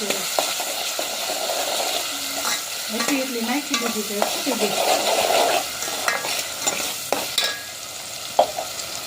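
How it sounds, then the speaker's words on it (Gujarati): Spice tempering sizzles in hot oil while being stirred, a close crackling hiss with scattered spoon clinks and a brief voice in the middle. "વઘાર તૈયાર થઈ ગયો છે કમ્પ્લીટ"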